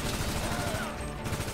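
Rapid pistol shots crack in a chaotic crime game street fight, a steady loud burst of close gunfire with several distinct pops that runs through the whole moment.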